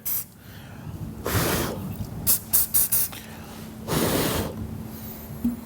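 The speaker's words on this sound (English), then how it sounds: "Once I've got a little bit of it around it, I'm going to hit it with this activator." Activator spray hissing onto freshly applied glue around a nutsert, several short broadband bursts with a few quick puffs between them, close and fairly loud, with no talking.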